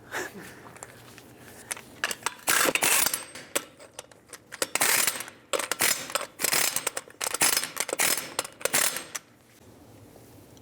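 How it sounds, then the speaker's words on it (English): Torque wrench tightening the lug nuts on a 2002-2006 Toyota Camry front wheel, a series of loud sharp metallic clicks and ratcheting bursts in clustered groups, with handling noise between them. "In a cross pattern, torque these to 76 foot-pounds."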